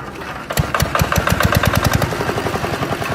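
Engine of a loading rickshaw converted into a bike, starting up and running close by with a rapid, loud, regular chugging beat and no talk.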